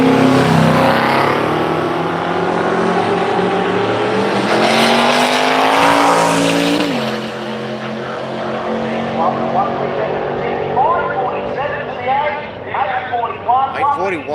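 Drag racing cars with various generations of Chevrolet GM engines roar loudly and steadily at a street machine drag challenge, the engine note shifting pitch as they run, with talk heard over the noise.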